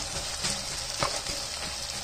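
Leftover rice tipped into a pan of frying tomatoes, peas and carrots, giving a faint, soft sizzle with a few light crackles and gentle scraping taps, heard alone and close.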